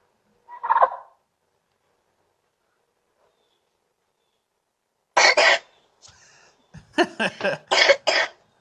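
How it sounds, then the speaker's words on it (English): A small child coughs once, then after a long silence lets out a string of rapid, rough coughs close by. "Just coughing."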